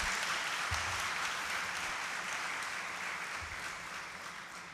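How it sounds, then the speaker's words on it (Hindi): Sustained applause from a congregation at a Sunday Advent service in St. Paul's Church, Rawalpindi, a dense even clatter of many hands that slowly fades toward the end. "उनके लिए अगर आप तालियां बजा के अप्रिशिएट कर दें तो थैंक यू सो मच"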